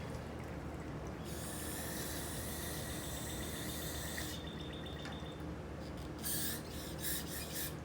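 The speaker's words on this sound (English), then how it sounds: "So I'm just going to spray this down on top of it and then drain it back into here." Aerosol spray can hissing steadily as it sprays down into a can, a long continuous burst followed by a few short spurts, moderately close with no talking.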